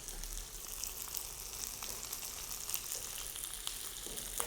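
Chicken pieces fry skin-side down in a hot pan, giving a continuous, dense crackling sizzle with small pops, steady and fairly quiet with no voices.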